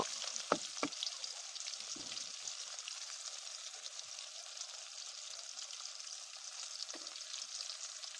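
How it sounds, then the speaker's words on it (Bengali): Bitter gourd (karela) slices frying in oil, a quiet, continuous fine crackle and hiss with a few soft thuds of stirring near the start. "এবার আমি কিছু সময় ভেজে নেব"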